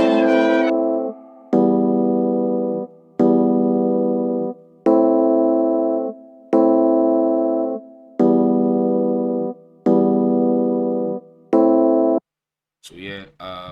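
A vintage electric piano with a parametric EQ cutting its muddy low end plays a repeating pattern of eight held chords, thin and bright at the bottom. A brief burst of noise, likely a voice, closes it.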